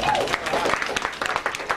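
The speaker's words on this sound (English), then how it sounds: "Hold your applause" Audience at a comedy karaoke night in a bar claps in a short, loud burst of under two seconds, scattered sharp hand claps with some crowd noise and voices mixed in.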